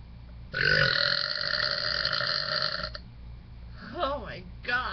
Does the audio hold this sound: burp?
yes